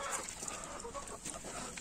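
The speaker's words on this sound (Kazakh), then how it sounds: "Мінекей тауықтарымыздың барлығы." Several chickens cluck and chatter continuously, close by, over a steady outdoor hiss.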